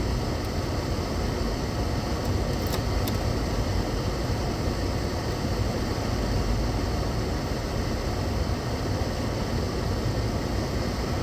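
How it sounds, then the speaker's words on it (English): A car heater blows hard inside the vehicle, a steady, even rush of air that holds at a constant level with no voices, broken only by a couple of faint ticks. "I'm going to turn on some heat real quick."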